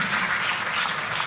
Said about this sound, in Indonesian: tepuk tangannya yang paling meriah buat Yesus Tuhan kita